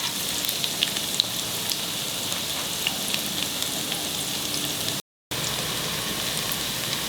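Chopped garlic and a little ginger fry in a pan with a steady, close crackling sizzle, broken once by a brief moment of silence.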